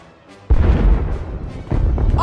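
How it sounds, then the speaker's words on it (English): Deep, rumbling booms and blasts from Star Wars: The Old Republic roll continuously at close range, swelling twice, with a faint voice at the very end. "You're heading for the explosions?"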